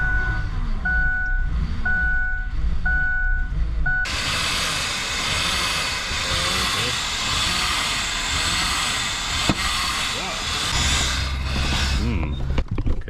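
An old $500 truck with some parts still unplugged fires up after a few seconds of beeping, and its engine runs loud and ragged for about eight seconds before cutting out abruptly.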